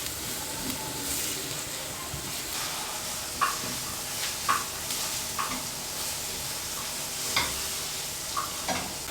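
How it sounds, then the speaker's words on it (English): Garlic and onions sizzle in a hot pan as they are stir-fried, a steady close frying hiss with occasional spatula taps and scrapes standing out every second or so. "So just go ahead to stir fry your garlic and onions for about 3 to 4 minutes."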